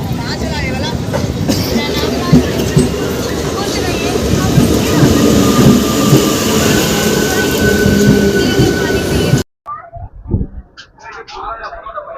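Digha–Mecheda local train at a station platform, with a loud rumbling roar, wheel rattle and faint squeals for most of the clip before it cuts off abruptly to quieter sounds with some talk.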